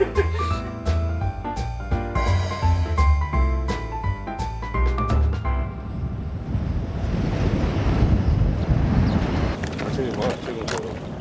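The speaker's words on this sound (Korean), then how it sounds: "It's a little windy." Gusty wind roars and buffets the microphone outdoors at a hot air balloon competition, a broad rumbling rush following a stretch of music.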